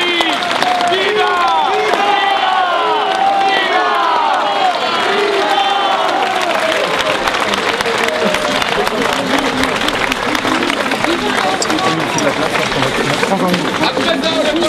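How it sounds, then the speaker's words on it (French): A crowd at a medieval festival in Saint-Macaire claps and cheers for a newly married couple, a loud, dense mix of applause, shouts and scattered voices continuing throughout. "Applaudissez nos amis."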